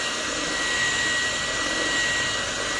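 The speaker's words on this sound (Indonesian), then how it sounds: "Ini mix pelan-pelan sekarang ya, jadi biar semuanya tercampur merata." Electric mixer beating nastar cookie dough at low speed, a steady motor whine that runs unbroken and loud throughout with no voices.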